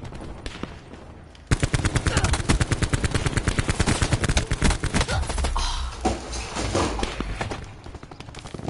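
Rapid automatic gunfire in Call of Duty, a dense, loud, near run of shots that keeps going for several seconds, mixed with other game sounds.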